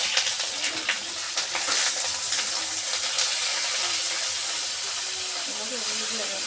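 Pieces of eggplant hit hot oil and fry with a loud, continuous hiss and sizzle that holds steady throughout, while a faint voice comes through near the end.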